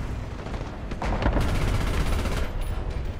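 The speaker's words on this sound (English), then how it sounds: "Oh, that's an artillery piece." Heavy gunfire and booming artillery blasts in the tank game War Thunder, a dense rumbling barrage with several sharp reports swelling mid-way, continuing as a rolling low roar.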